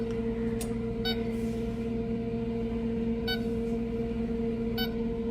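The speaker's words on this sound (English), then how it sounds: "then I'm going to shut the door, set the timer for 30 minutes, and let it ride" An oven timer gives short electronic beeps at uneven intervals as it is set, over a steady hum from the kitchen.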